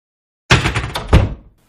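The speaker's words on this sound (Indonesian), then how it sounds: "suara pintu sel yang dibuka" A prison cell door in a flying castle swings open with a heavy wooden thunk and rattle, then a second louder knock-like clunk as it settles, close and alone before fading out.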